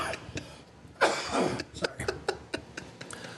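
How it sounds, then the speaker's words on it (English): A person coughs repeatedly nearby, a strong burst followed by a rough fit of shorter coughs and throat clearing, with no talking. "Sorry, this cough is killing me."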